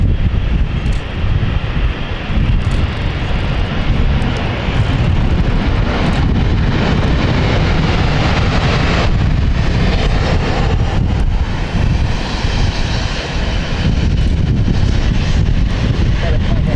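An aircraft in special SkyTeam livery passes at London City Airport with a loud, continuous roar, buffeted by heavy wind noise on the microphone, with a faint voice in the background.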